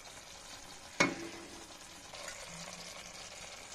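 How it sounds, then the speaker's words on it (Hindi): Spiced tomato masala cooking in a pan, heard as a quiet, even sizzle after a sharp clack at the start, probably a spoon striking the pan, with faint stirring scrapes following. "मसाले को अच्छे से पकने देंगे।"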